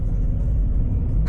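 A rally car engine roars at full throttle on a roadbook stage, a loud, steady low rumble heard close from inside the car with no talk over it.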